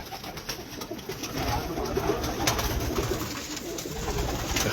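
Red pigeons cooing in a loft, a steady low murmur of coos from several birds close by, continuous throughout.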